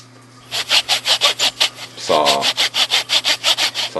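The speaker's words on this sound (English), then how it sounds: "Dangerous sawing. Don't try this at home, kids. And more sawing." Rhythmic back-and-forth strokes of a hand saw rasp through wood for knife handle pieces, steady and close, with a short voice cutting in midway.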